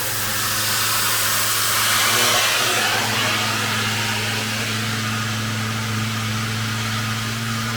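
An air compressor in a steel fabrication workshop with a plasma table hums steadily, its motor pitch rising as it revs up into a loud, continuous whirr.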